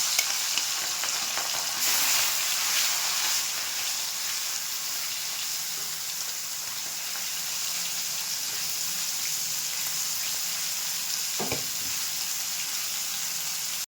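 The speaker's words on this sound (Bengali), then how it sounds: "তেল গরম হয়ে গেছে এবার মাছটা ভেজে নিয়েছি" Prawns fry in hot oil in a wok with a continuous near sizzle and hiss, light stirring scrapes, and a sharp clank of utensil near the end.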